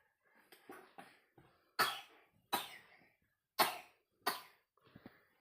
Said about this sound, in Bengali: কাশি, শুধু কাশি।